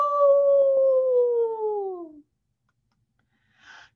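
A werewolf howl as a spooky Halloween sound effect: one long, loud, gliding howl that slowly falls in pitch and fades, then silence and a brief soft breathy sound.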